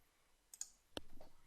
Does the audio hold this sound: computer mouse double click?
yes